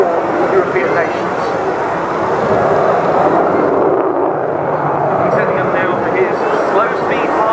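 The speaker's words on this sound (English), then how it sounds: "Slow-speed pass, 110 knots at 500 feet, and an excellent opportunity here to see the F-16's capabilities at this slower end of the speed range." An F-16A fighter jet making a slow-speed pass at about 110 knots and 500 feet during an air force demonstration flight, a loud continuous engine roar held steady throughout with an announcer talking over it.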